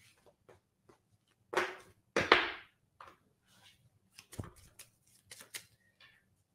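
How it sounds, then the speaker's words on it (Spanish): Tarot cards shuffled by hand: a few soft taps, then two loud, close riffling bursts, followed by scattered quieter flicks and shuffles of the deck, with no voice. "Vamos a remover las cartas"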